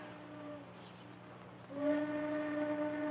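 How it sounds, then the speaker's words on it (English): A steam train whistle from a 1940s Oklahoma western sounds in two sustained tonal blasts, a shorter one first and then a louder, longer blast, over a low rumbling background with no speech. "Train whistle."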